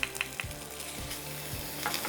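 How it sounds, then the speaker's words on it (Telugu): Onions sizzling steadily in a pan, a continuous close frying hiss punctuated by several soft stirring scrapes and a few small taps of a spoon, no voices. "మరి ఇక్కడ ఉల్లిపాయ వేగిపోతుంది."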